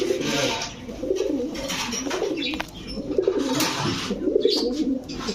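Afsan Baga pigeons cooing in a loft, soft repeated throaty coos over a steady background murmur, with some faint chirps mixed in.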